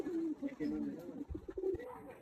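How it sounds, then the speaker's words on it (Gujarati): Soft, low cooing of pigeons, a few rolling coos close by with brief thumps and faint rustling. "હાલ જો કબૂતર આવી ગયા"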